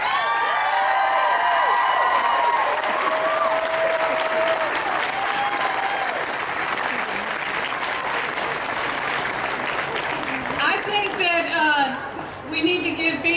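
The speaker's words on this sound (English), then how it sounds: "We need to give B another round of applause because she really is an activist." A loud crowd at the 2018 Women's March on Wilmington claps and cheers continuously, with whoops, shouts and some laughter mixed in, and voices carrying over the noise near the end.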